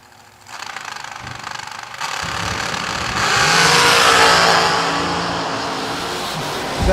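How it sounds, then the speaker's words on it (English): Drag racing car engine at a season kick-off meet, revving loudly as the driver blips in and out of the throttle, rising to a sustained roar mid-clip before easing slightly, close and alone. "You hear Keane in and out of the throttle and he gets the job done"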